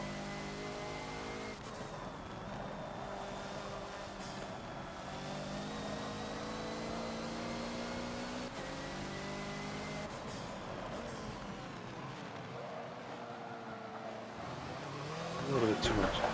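A Hoonigan Ford Focus race car on the Rio National track in Forza revs hard, its engine pitch climbing and falling through gear changes and throttle lifts, loud and close, with someone talking over it.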